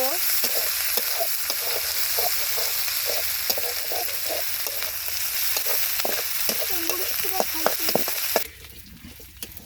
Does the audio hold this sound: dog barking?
no